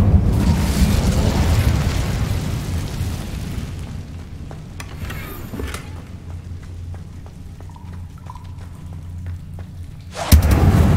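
Incendio fire spell cast in the video game Hogwarts Legacy: a loud, roaring blast of fiery rumble that fades over several seconds into a low hum with faint clicks, then another sharp burst near the end.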